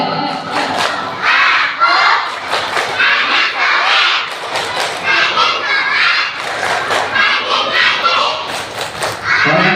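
A group of schoolchildren at a Maulid Nabi school gathering loudly chant the 'tepuk anak soleh' routine in unison, shouted syllables punctuated by sharp collective claps and thumps, energetic and close throughout.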